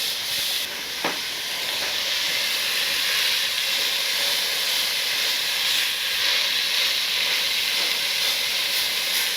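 Ground beef, 80/20 from the store, pressed down and searing on a smoker, giving a steady loud hiss and sizzle that carries on throughout with no one talking.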